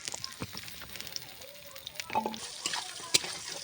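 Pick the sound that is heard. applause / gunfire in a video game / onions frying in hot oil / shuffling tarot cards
onions frying in hot oil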